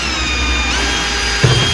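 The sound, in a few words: drilling holes in plastic van splitter with 4mm drill bit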